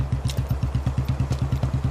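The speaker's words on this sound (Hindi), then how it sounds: "अर्जुन, सॉरी, मेरी स्कूटर स्टार्ट नहीं हो रही" A scooter engine cranks without catching, giving a rapid, even chugging pulse, close and fairly loud.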